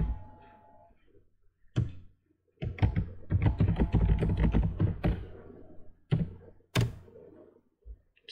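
Password keys tapped on a computer keyboard at a sign-in screen: a dense burst of close, thudding keystrokes in the middle, with a few isolated heavier taps before and after, no talking.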